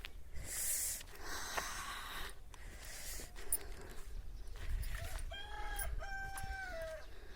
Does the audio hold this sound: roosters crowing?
yes